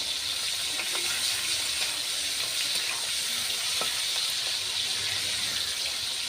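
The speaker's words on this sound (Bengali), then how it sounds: "চিংড়ি মাছগুলো আমি একটু হালকা করে ভেজে নেব।" Prawns fry lightly in hot oil, giving a steady, close, hissing sizzle that stays even throughout with a few faint pops and clinks, with no talking.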